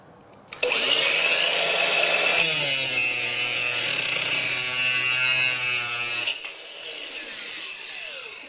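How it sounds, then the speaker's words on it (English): An angle grinder cuts the end of an aluminium curtain rail: the motor spins up and holds a loud, high whining screech for several seconds, the pitch sagging slightly under load, then it winds down and spins to a stop. "I'm going to use an angle grinder. I'm just going to take a little bit off the end."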